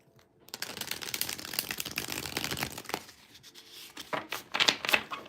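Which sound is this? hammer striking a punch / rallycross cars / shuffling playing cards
shuffling playing cards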